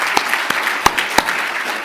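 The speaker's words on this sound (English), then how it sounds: "Let's all give him a round of applause." An audience at a Georgetown talk claps, with several sharp, loud hand claps standing out over a steady wash of applause from the crowd.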